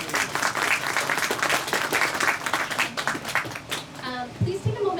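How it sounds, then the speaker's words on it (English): An audience claps in steady applause for several seconds at an author's event in Salt Lake City, Utah, which fades as a voice begins speaking at the end. "So round of applause for yourself."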